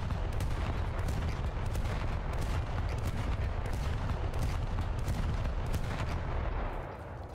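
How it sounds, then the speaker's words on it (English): Naval guns in War Thunder pour fire onto a German destroyer, a dense, continuous barrage of heavy booming shots that overlap into a rolling roar before easing slightly at the very end. "we are targeting the German destroyer there, and then we are just giving him about 10 rounds or 10 shots"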